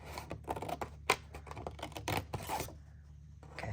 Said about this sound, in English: We're going to cut the other one off.